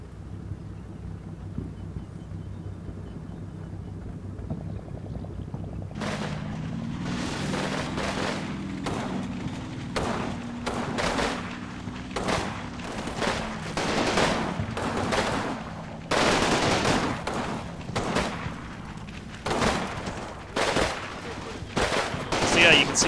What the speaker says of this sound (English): I'm going to give them target light orders, so they're going to just shoot their machine guns.